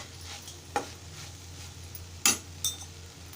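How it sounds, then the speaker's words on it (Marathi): Malvani-style okra vegetable mixture stirred in a pan, a few soft spoon scrapes and two or three sharper clinks against the metal over a quiet, low sizzle. "आता मिश्रण छान असं एकजीव करून घ्यायचं"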